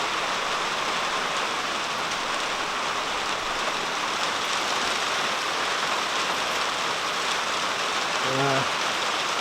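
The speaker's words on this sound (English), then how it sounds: "it's raining quite hard on the shelter" Heavy rain drums steadily on a shelter in Cornwall, a dense, even hiss of close drops filling the whole stretch, with a brief faint tone near the end.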